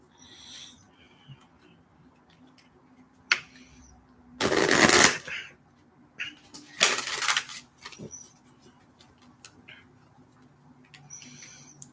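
Tarot cards being shuffled nearby in two short riffling bursts, the first around a second long and the second briefer, with quiet room tone and faint handling noises between them and no talking.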